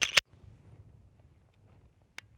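Two sharp mechanical clicks close together at the start, then near silence with faint low rumble, and one more crisp click near the end: trigger reset of a Smith & Wesson M&P Pro Series C.O.R.E. pistol.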